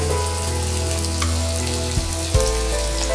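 Onions fry in a pan with garlic, ginger and green chillies, giving a steady close sizzle with a couple of soft stirring knocks and no talk.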